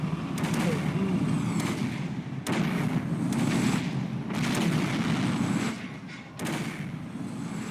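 A Soviet T-72 tank cannon firing in a video game: four heavy booms about two seconds apart over a constant low rumble, loud and close, with a voice talking underneath.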